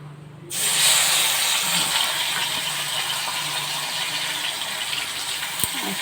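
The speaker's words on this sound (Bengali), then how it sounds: "জল ফুটে গেছে।" Water comes to a boil in a pot, a steady, fairly loud hiss and rush of bubbling that starts abruptly after a brief quiet and carries on evenly.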